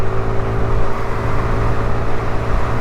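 A Honda Navi motorcycle pulls off on a downhill start, its small engine droning loud and steady with a slight rising strain, close to the rider and with no talk over it.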